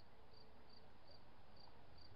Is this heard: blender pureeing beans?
no